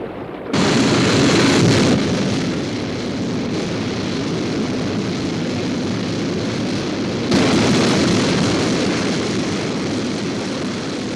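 Aircraft engine roars up abruptly into a loud, steady broadband rush as the aircraft lifts off and flies, surging again near the end, with no talking.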